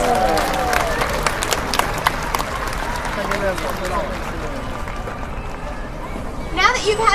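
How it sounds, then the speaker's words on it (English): Audience applause and crowd noise at a SeaWorld San Diego orca show after a training session, a broad steady clapping wash lasting several seconds with a brief swell near the end. "Let's give Orchid a big round of applause."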